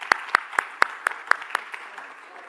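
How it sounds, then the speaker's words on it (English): Applause for a discussion panel during an Africa Week conference day comes as a run of about seven crisp, evenly spaced claps, close and distinct, thinning out and fading toward the end. "Let's give them one more round of applause."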